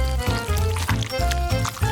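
Cream poured from a dispenser onto stacked pancakes, a short wet sputtering squirt pulsing in quick regular bursts, close and fairly loud.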